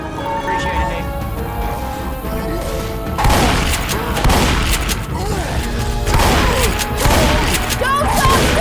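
Dense gunfire and chaotic game noise from Left 4 Dead, a loud continuous wash of shots and impacts that grows heavier after the first few seconds, with voices shouting over it.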